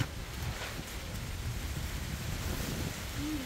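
Strong wind blows steadily through banana plants, a continuous broad rushing roar with gusty texture and no pauses, fairly loud and close.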